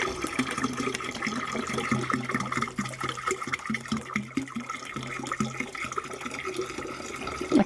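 Water pours steadily into a fermenter for an Island Mist home brew kit, filling it toward about 17 litres; a continuous rushing, gurgling flow runs close and fairly loud throughout, with no talking.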